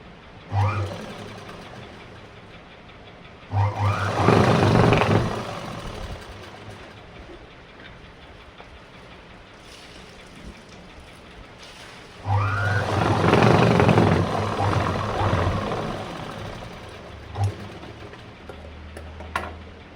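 Sewing machine stitching a kurti, running in two short bursts of a few seconds each with a quiet pause between, close and fairly loud over a faint background hum.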